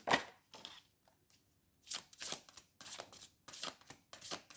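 Cards for a reading are shuffled and drawn in several quick, papery riffling bursts separated by short pauses, close and fairly quiet.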